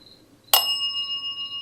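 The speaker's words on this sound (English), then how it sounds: "Are you by this bell?" A bell is struck once, sharp and bright, then its clear metallic tone rings on and slowly fades.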